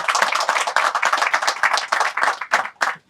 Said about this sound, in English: I wasn't expecting applause that early.